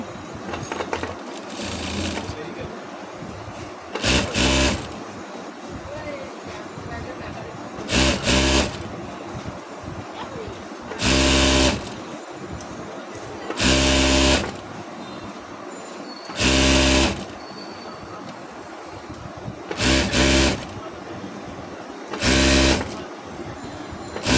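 Sewing machine stitching a cloth cover for a biryani pot, loud mechanical whirring bursts of a second or so repeating at regular intervals, with quieter fabric handling between runs.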